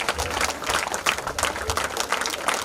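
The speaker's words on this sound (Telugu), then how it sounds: "క్లాప్స్ ఇంకెక్కువ రావాలి." A crowd at a school alumni get-together for the 2004-2005 SSC batch claps steadily as a guest is invited onto the stage, dense overlapping applause filling the hall without a break.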